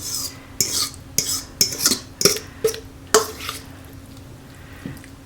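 Spatula scraping and tapping against a casserole dish while spreading chicken pot pie filling into an even layer, a series of short, close scrapes and clinks in an uneven rhythm that fade out toward the end.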